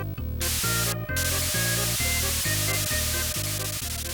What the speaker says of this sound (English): Listen to using the spray can on Mario Paint.